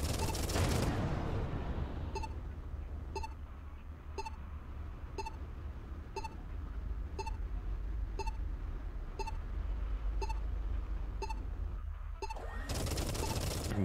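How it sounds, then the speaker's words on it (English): An enemy turret in the Everspace 2 video game fires a steady stream of evenly spaced shots, roughly one per second, each a sharp pulse over a low engine drone, with a voice talking at the start and end. "That is the turret that hit us really hard"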